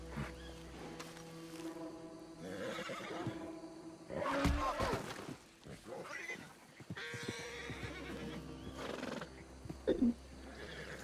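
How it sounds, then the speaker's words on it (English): Horses whinny and neigh in the Red Dead Redemption 2 video game, several loud calls over background game ambience, with hoof clip-clops and other game sounds mixed in. "Let's see what horses we got."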